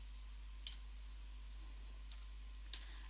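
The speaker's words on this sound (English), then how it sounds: "I'm going to type in the address" Computer keyboard keys tapped as a web address is entered, a few sparse, faint clicks over a steady low hum with no talking.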